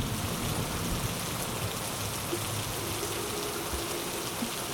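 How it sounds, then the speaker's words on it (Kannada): Steady rain pours down as a dense, even hiss of drops on surfaces, constant and fairly close, with no voices. "ಆಮೇಲೆ ಮಳೆ ಶುರುವಾಗುತ್ತೆ."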